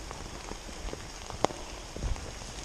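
Rain patters on a wet, muddy forest trail among rocks, roots and bushes, a soft steady hiss of drops with scattered light taps and a sharper knock, like drops hitting an umbrella, plus a few muffled footsteps.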